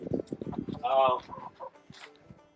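Homestead chickens cluck close by, giving short repeated clucks and one longer, drawn-out squawk, mixed with quiet voices nearby.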